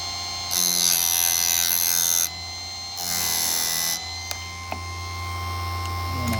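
A Chicago Electric chain saw sharpener grinds chain teeth in two sustained, harsh bursts, each lasting about two seconds, with a steady motor hum and a few sharp clicks between and after them.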